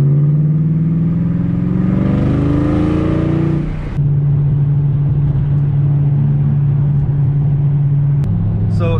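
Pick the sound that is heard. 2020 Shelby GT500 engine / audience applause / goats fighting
2020 Shelby GT500 engine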